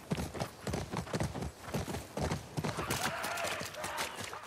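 Horses' hooves clip-clop in The Last of Us Part II, a dense run of hollow knocks from several animals close by, steady and fairly loud throughout with no talk over them.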